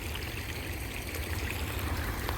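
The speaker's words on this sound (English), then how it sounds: "the water going under the culvert out the road is coming from this direction" Storm floodwater rushes under a road culvert in a continuous loud, broadband roar with a deep low rumble, steady throughout and with no voices.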